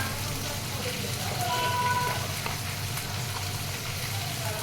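Chopped onions and a tomato sizzle steadily in a hot pan, a constant close frying hiss with no break.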